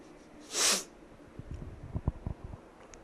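A single sharp sneeze bursts out close by, followed by a few soft sniffs and breaths.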